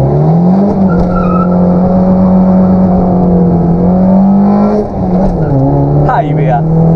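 Cars in a quarter-mile drag race against a Hyundai Ioniq Hybrid give a loud, steady engine drone whose pitch holds, dips slightly and then settles, with thin higher whines layered over it.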